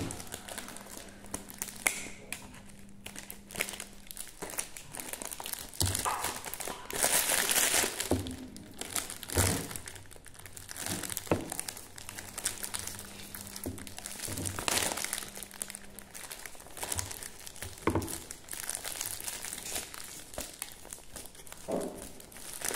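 Crinkling foil wrapper being opened on a small 2023 Easter egg, with scissors in use: repeated close, loud rustling and crumpling bursts over about twenty seconds, with no talking.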